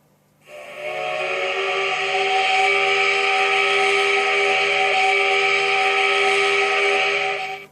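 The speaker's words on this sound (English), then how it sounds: "So that's what steam locomotives sound like in Japan." Japanese National Railway C55 steam locomotive whistle, the C55 1462 of Hokkaido, in the Trainz train simulator: one long, steady chord-like steam whistle, loud and breathy, sustained for about seven seconds with no talk.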